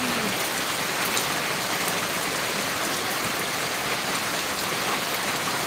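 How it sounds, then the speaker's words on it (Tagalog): Heavy rain falling on the Old Zigzag road, a dense, even roar of drops that stays loud and unbroken throughout, with no one speaking. "Ulan Paps, grabe."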